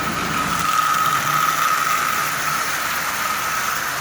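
A restored Marx 999 toy train locomotive runs steadily, its electric motor giving off a continuous thin whine and hum that stays even and close throughout, with no speech over it.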